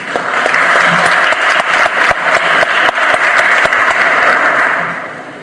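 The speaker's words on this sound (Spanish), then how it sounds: "Alcócer Povis, profesor de Derecho Penal, a quien le brindamos un fuerte aplauso." A hall audience applauds a law professor being introduced at a plenary session of a supreme court criminal chamber, with steady, loud, full-room clapping that holds for about five seconds before tapering slightly.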